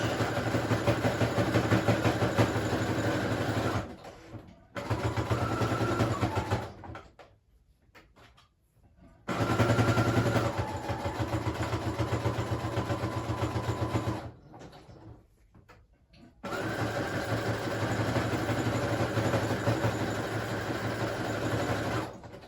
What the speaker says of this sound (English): I'm doing a zigzag stitch.